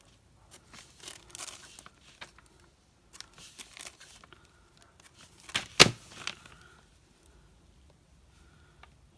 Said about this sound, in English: and then I'm going to cut the corners off